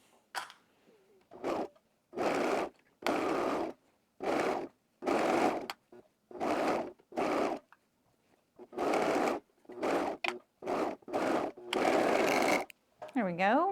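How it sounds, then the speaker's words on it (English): An overlock serger stitches a sleeve to a dress bodice in a string of short, even bursts of rapid whirring, separated by brief pauses, close and moderately loud. "I'm going to sew my sleeve to the bodice using my overlock or serger"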